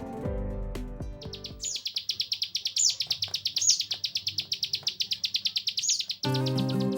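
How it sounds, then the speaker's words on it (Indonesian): Yellow-breasted white-eye (peleci dada kuning) sings a rapid, high chattering song of quick repeated chirps with brief sweeping whistles, fairly close and loud, bracketed by short bursts of lower background sound at start and end. "tentunya adalah burung peleci dada kuning"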